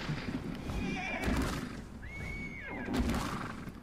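Horse in the ARK Ragnarok game whinnying twice, with a rising-falling neigh around the middle, over hoof clatter and game background noise.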